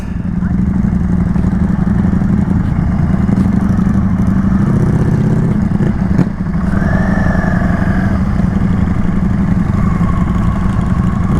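Several motorcycles idle and rumble at an outdoor bike meet, a loud steady low engine drone with a few revs rising partway through, and voices faintly beneath.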